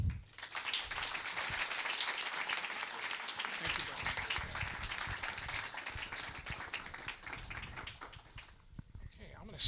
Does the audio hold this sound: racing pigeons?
no